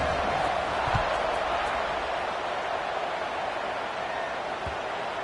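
Steady, dense crowd roar fills a football stadium before kickoff in an SMU vs Notre Dame game, a continuous wash of cheering from many voices at even loudness with a couple of brief thumps.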